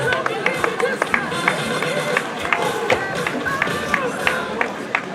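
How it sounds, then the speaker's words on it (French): At a nature running race finish in Bouguenais, a crowd gives scattered, uneven applause for a women's age-category winner, with individual claps ringing out over a bustling outdoor babble and a voice talking. "On applaudit Elisabeth, donc première V2 féminine"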